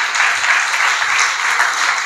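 A church congregation applauding at a pastor's service, dense, steady clapping from many hands filling the hall throughout.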